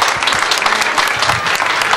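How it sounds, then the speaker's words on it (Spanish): A studio audience on a regional Aragón television programme applauds for a guest, producing dense, loud, continuous clapping that fills the whole moment without a break. "¡Un aplauso para Jesús!"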